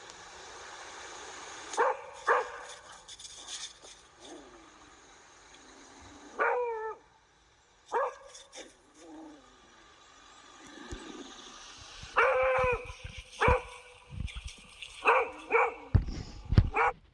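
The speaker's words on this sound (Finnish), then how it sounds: "itse asiassa jopa vähän murisee siinä, kun jänis juoksee häntä kohti" A hunting dog vocalizes as a hare runs toward it, giving scattered sharp barks, yelps and whines in irregular bursts over a quiet outdoor background, some close and loud.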